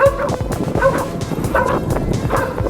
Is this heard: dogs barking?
yes